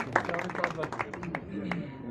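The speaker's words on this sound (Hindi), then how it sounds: "इनके लिए ज़बरदस्त तालियां जी" At a rasm-e-ustadi ceremony, an audience claps for an honoree on stage, with scattered close handclaps under ongoing talk before the sound tapers off.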